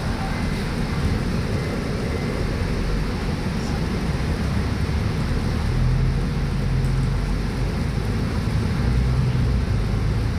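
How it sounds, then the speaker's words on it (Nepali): Steady rain falls in a dense, unbroken hiss that holds level throughout, loud and close with no distinct drops standing out. "पानी पर्दैछ"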